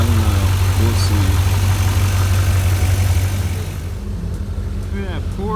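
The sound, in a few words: Porsche car engine running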